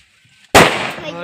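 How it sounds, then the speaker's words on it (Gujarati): A chilli-type firecracker goes off with a single sharp, loud bang after a brief quiet moment, and the blast rings and decays over the following second. "જુઓ જો ધમાકો થશે ખાલી એ ધમાકો થયો"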